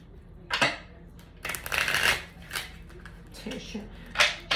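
Tarot cards shuffled by hand in a quiet room, several soft riffling and sliding bursts spaced irregularly, close and fairly faint.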